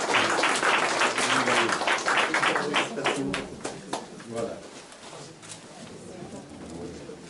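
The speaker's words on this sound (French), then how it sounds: "On peut l'applaudir ici." Applause for a jogger at an awards ceremony, a burst of audience clapping that swells early, then thins into scattered claps as a voice talks over it and carries on alone.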